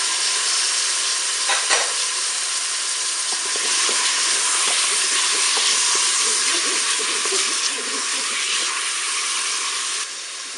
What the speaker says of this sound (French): Je vais maintenant ajouter le saumon.